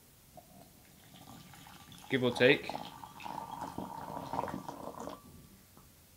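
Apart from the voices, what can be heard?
pouring water for brewing tea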